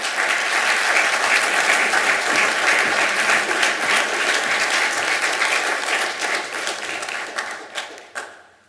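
An audience at a county council meeting bursts into sustained, dense clapping that holds steady for several seconds before thinning out and fading, with no talk over it.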